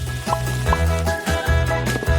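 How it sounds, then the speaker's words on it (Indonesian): Sliced tortillas fry in hot oil in a home kitchen, a steady crackling sizzle with soft clinks and stirring bumps recurring every half second or so. "Panaskan minyak dan goreng tortilla yang sudah diiris sampai berwarna coklat keemasan."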